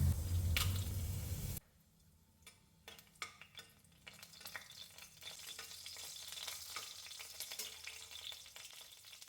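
Dried chillies and cumin seeds hit hot ghee in a pan, a loud burst of frying for the first second and a half, then a quieter crackling sizzle with soft stirring scrapes and pops that runs on alone.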